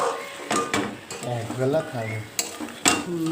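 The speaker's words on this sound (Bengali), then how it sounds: "এখানে ভালো করে আমি নেড়ে চেড়ে নিচ্ছি" Chicken with tomato, salt and turmeric being stirred in a pan, with soft scraping and light sizzling beneath a woman's speech throughout.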